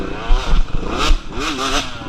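A dirt bike engine revs hard in short bursts at a muddy trail-riding event, rising and falling in pitch, close by with a rough, buzzy mechanical edge.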